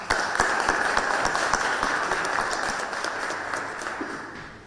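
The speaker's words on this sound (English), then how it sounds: "I would like to ask you kindly to give a round of applause, Mevlut, for this endeavor." Audience applause at a foreign minister's speech event in Lviv, a moderate wash of clapping with scattered distinct claps that slowly fades over a few seconds.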